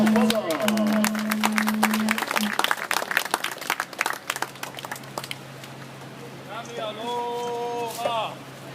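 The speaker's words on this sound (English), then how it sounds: "please welcome with a round of applause our Aloha Ahi Ahi torch greeter" An audience at an outdoor Hawaiian luau claps to welcome a torch greeter, a burst of applause that thins out into scattered claps, with voices talking and a tonal call sounding near the end.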